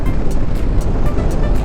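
A Subaru boxer engine, an RS on cruise control at 80 km/h on the highway, hums as a steady low drone with a faint rhythmic pulse, loud and continuous with no voices.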